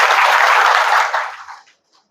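A group of women in a fun activity class clap together in a brief burst of applause-like clapping that swells, holds about a second, then trails off and stops, with one faint final clap.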